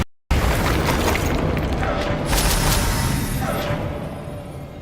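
A Confringo fire spell blast in the Hogwarts Legacy video game bursts in as a sudden loud boom after a brief silence, then rumbles on and slowly fades over the next few seconds.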